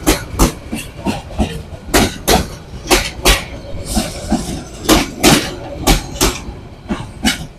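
A train passes through a station with loud, rhythmic clickety-clack, repeated metallic knocks from the wheels rolling steadily past close by.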